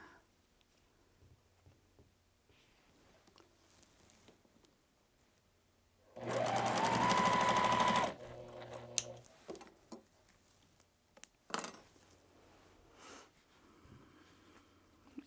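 Sewing machine stitching a quilt block, a loud steady whirring run of about two seconds with a brief stop-start tail, set among quiet handling noises with no talk.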